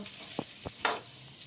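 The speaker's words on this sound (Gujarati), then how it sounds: "આ સરસ મજાનું બધું કઢી લીમડો મરચનું વઘારમાં મિક્સર થઈ જશે ચેવડો" Curry leaves and chillies sizzle in hot oil as a tempering for chevdo. A soft hiss runs throughout, with a couple of brief knocks and a sharper burst of sizzle.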